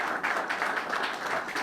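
Sustained applause from an audience at a proclamation ceremony, steady and moderately loud, a dense wash of clapping with no voices over it.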